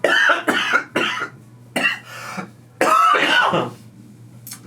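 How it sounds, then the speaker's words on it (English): A run of loud, close coughs and throat-clearing bursts in several separate fits, with short quiet gaps between them and a steady low hum underneath. "I did not mean to start coughing there."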